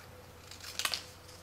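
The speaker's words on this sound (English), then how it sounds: "take my scissors and trim that out" A quick, quiet snip of scissors cutting through paper, a couple of crisp clicks close by in a hushed room.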